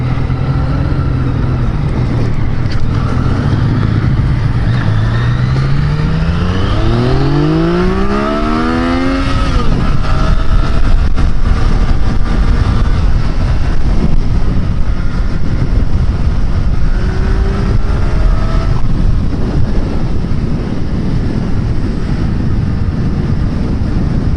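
Yamaha FZ-09 motorcycle accelerating hard through the gears, engine note climbing and dropping at each shift, then holding a loud high drone with heavy wind noise, close to the rider.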